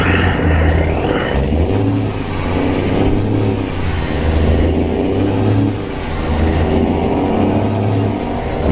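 A big truck in a driving video game rumbles along with a steady, loud mid-range engine drone that swells and dips in repeated surges, with faint air-brake hisses on top and no talking.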